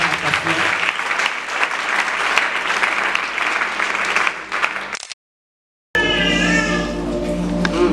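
A church congregation applauds together at a Sunday service, a dense, steady wash of clapping for about five seconds before cutting out, followed by a brief stretch of room sound.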